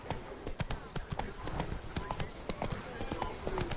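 Roach the horse trots through the streets of Beauclair in The Witcher 3, with steady, close clip-clop hoofbeats in an even rhythm and someone talking over them.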